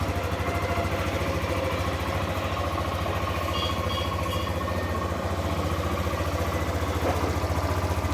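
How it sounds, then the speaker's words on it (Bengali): A motorcycle with about 9,000 km on it, in like-new condition, idles steadily at close range with a constant low throb and light mechanical clatter, no voices. "ইঞ্জিনের সাউন্ড একদম একদম নতুনের মতো"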